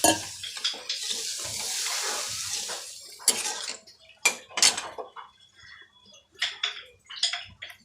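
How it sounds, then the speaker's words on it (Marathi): Water splashes and pours into a pot of mixed masala for mackerel curry, with metallic clinks of cookware, steady at first then broken into short bursts and taps nearby. "त्याच्यामध्ये पाणी ॲड करून घेते"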